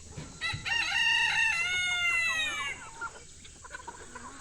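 A rooster crows loudly and close, one long drawn-out call, followed by a few soft, scattered clucks from nearby chickens.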